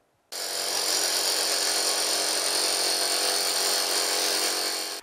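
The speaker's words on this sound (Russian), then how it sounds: "Звук перфоратора его умиротворяет" A rotary hammer drill runs during renovation of an old building, starting abruptly and keeping up a loud, continuous harsh grinding drone close by until the end.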